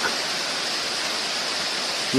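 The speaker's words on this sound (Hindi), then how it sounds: "बरसात के बाद काफ़ी महीनों तक इसी तरह पानी झरने के रूप में ऊपर से बरसता रहता है।" Steady broadband rush of water pouring down from above inside Bhadrakali cave in the Kamsyar valley, a continuous even hiss like a small waterfall, heard alone and fairly close throughout.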